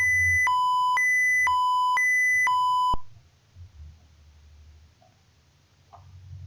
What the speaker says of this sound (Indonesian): Maka alarm akan menyala.